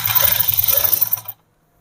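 A sewing machine stitches a round-neck nighty in a fast, loud rhythmic whir of rapid needle strokes, then stops abruptly into silence.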